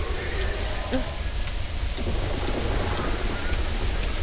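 Thunder Breath, a thunder attack in the Tensura video game, rumbles and crackles like a stormy roar, a steady loud wash of noise without distinct separate strikes.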